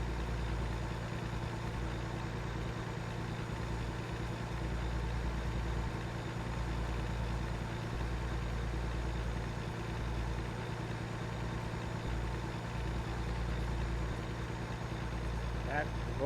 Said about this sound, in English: A lot of engine noise though.